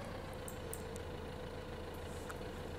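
A John Deere 6810 tractor idles in Farming Simulator 15, a steady, even engine drone that continues without pause throughout.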